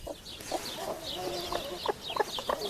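Close, fairly soft clucking from a broody hen that resents being disturbed, a run of short, irregular clucks and low murmured notes with other fowl faintly calling in the background.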